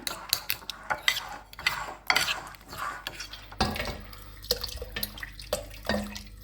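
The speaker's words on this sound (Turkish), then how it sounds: "Böyle karıştırıp yedireceğim sonra." A spoon stirs a spoonful of flour into tripe soup in a pot, with irregular clinks and scrapes against the metal and soft liquid sloshing, close and moderately loud.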